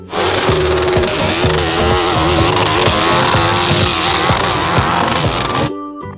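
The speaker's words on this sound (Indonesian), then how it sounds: "Di sini ada motor racing" A racing motorcycle engine drones loudly and steadily at close range, with a busy rhythmic backing underneath, before cutting off abruptly at the end.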